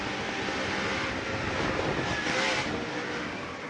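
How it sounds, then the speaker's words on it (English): A NASCAR race truck engine roars steadily at a race, loud broadband noise that swells and then eases as the driver backs off the throttle. "You could hear him back off the throttle just as that back end kicked out a little bit."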